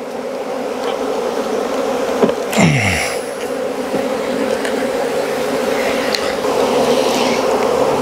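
Bees from an opened hive in December in South Alabama swarm in a dense, continuous buzz close by, with individual bees whizzing past now and then over the steady hum.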